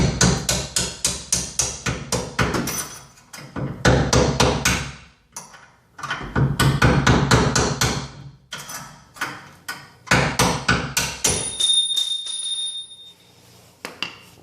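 A punch is hammered through a leaf spring mount on a 2013 Tacoma during an Old Man Emu Dakar leaf installation, with rapid bursts of sharp metallic blows in several runs and brief pauses, loud and close, with a ringing tone near the end.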